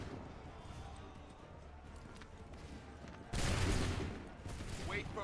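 A musket volley in Assassin's Creed III erupts as a sudden loud burst of massed gunfire midway, over an ongoing battlefield din with hoofbeats and shouting, then fades into renewed commotion.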